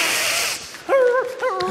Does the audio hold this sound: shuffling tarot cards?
no